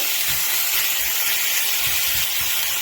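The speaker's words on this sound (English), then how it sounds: "Start browning it before we add some paprika." Lean steak mince sizzles and hisses steadily as it browns in a pot, a loud, constant frying noise with a few soft thuds of the meat being moved underneath.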